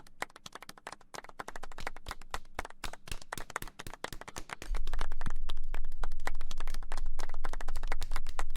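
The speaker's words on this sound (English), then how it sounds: "What is this golf clap?" Scattered clapping from a crowd at a TwitchCon 2017 awards moment, thin uneven claps that grow fuller and louder about halfway through, with no talk over it.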